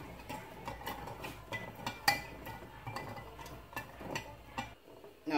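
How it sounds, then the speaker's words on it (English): A spoon stirs sugar into sweet potato pudding batter in a bowl, giving irregular light clinks and taps against the bowl with soft scraping between them, close and fairly quiet. "Sugar. And you just mix it in."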